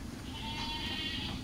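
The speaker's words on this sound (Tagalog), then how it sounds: "Marami-rami na rin kambing natin guys." Goats on an organic farm bleat in a single sustained, wavering call, heard fairly close over a steady rumble of background noise.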